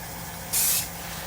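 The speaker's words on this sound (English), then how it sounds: "Hold the can out about 10 inches away, give a mist." GluBoost finish sprayed as a fine mist from an aerosol can held about ten inches from a wood pen blank, a single short hissing burst of roughly a third of a second over quiet room tone.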